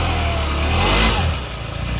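Motorcycle engine running steadily just after a cold start, close and loud, a rough throbbing idle that swells briefly then settles, with no voices.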